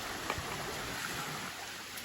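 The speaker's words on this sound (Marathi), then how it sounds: "नदी म्हणजे बघा फास्ट आहे पाणी" Faint, steady rush of a fast-flowing, flooded jungle river, a continuous wash of noise with no voices.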